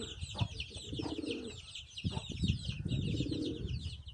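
Soft cooing and low burbling calls of young homing pigeons nearby, in short bursts over faint background chirping.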